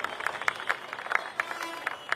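Applause at an Independence Day speech, a crowd clapping in quick, fairly regular claps, moderately loud and steady throughout with no talking.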